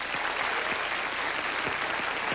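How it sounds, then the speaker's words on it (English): A studio audience on a 1987 syndicated Card Sharks game show breaks into steady, dense applause, loud and continuous throughout with no break. "Give them a nice round of applause."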